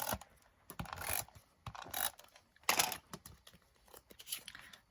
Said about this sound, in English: trimming off with scissors